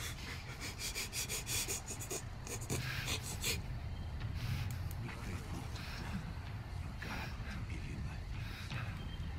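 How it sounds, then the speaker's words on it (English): A character in the horror game Outlast 2 breathes heavily and pants in rapid, ragged gasps close up, with faint game ambience and brief voices behind it. "Stop breathing, they can hear me?"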